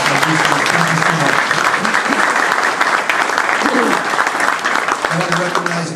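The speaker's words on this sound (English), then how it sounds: "Please round of applause for my boosters" A crowd gathered at a La Follette High School referendum completion celebration applauds the school boosters with steady, loud, continuous clapping, while faint voices sound underneath throughout.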